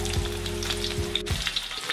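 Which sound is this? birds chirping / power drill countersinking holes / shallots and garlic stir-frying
shallots and garlic stir-frying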